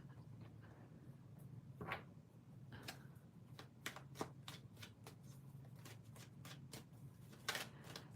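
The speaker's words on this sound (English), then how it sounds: "let me shuffle the cards" Tarot cards being shuffled by hand during a live reading, with soft riffling passes and a series of crisp flicks and taps close up over a low steady hum.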